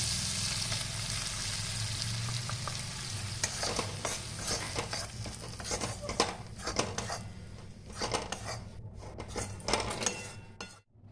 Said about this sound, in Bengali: এই যে ছাতুটা দিয়ে হালকা করে নাড়াচাড়া করে নেব।